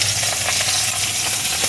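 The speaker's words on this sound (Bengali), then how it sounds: "এবার মাছগুলো ভাজা হচ্ছে" Boal fish frying in hot oil, a steady close hiss of sizzling fat filling the short stretch without pause, no voices.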